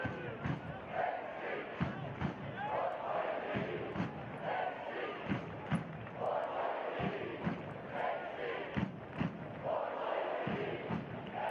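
A stadium crowd at a soccer match between Athletic Club Boise and Sarasota Paradise chants in a steady rhythmic pulse, with loud rising waves of voices and thumps repeating roughly every two seconds, a commentator faintly under it.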